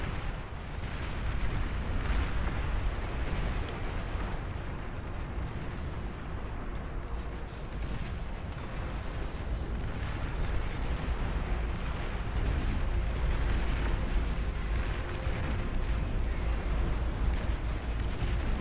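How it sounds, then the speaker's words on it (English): A sustained barrage of rocket launcher blasts booms and rumbles in a massive Beyond All Reason real-time strategy battle, dense overlapping explosions and artillery-like pops rolling continuously at steady loudness without speech. "I'm gonna try a few of the rocket launchers"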